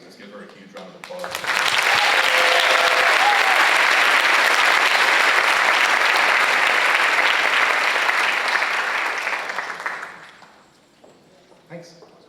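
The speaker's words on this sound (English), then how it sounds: "so let's give her a huge round of applause." Audience applause at a high school Latin club ceremony, a dense sustained clapping from a large crowd that swells in quickly, holds steady for about eight seconds, then fades, with brief voices before and after.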